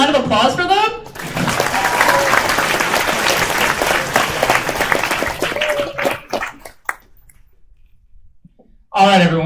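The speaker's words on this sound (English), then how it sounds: "Can we get one more round of applause for them?" A crowd applauds steadily for several seconds, then the clapping thins out and fades to near silence before a voice begins speaking.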